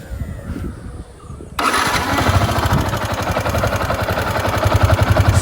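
A Yamaha R15 V2 motorcycle, ridden for three years and showing a slight tappet noise at startup, cranks after a brief quiet moment. It catches and settles into a loud, close, rapid rattling idle.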